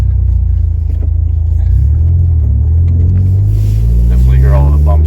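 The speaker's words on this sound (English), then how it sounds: "I think it sounds pretty good for a factory exhaust with that mileage on it." A car with its factory exhaust drives off: a low, loud engine rumble rises in pitch as it accelerates, with some road noise mixed in.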